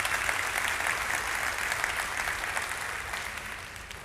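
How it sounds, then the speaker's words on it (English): Conference audience applauding participants, a dense, steady wash of clapping heard up close that holds for about four seconds and slowly tapers toward the end. "let's give a round of applause for all of our agent participants for this conference"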